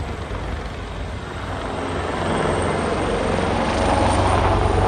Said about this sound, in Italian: L'elicottero si riposiziona per il rilascio del nostro soccorritore